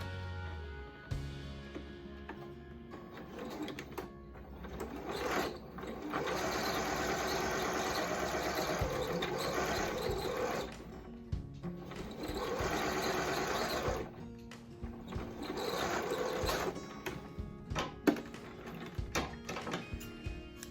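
A sewing machine stitching the seams of a fabric face mask: a close, steady whirring hum in several runs of a few seconds each, separated by brief pauses and small clicks, with no talk.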